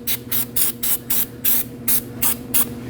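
Anti-seize spray hisses onto a car wheel hub during a rear wheel bearing and hub replacement on a 2011-2016 Kia Optima, in about nine short, even bursts up close.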